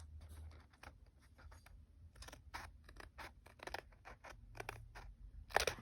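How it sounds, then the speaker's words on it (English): Close, quiet snips of scissors trimming paper while altering a mini composition notebook, a series of short irregular cuts with brief pauses and a sharper snip at the end. "Let's find my scissors. Let's just trim that."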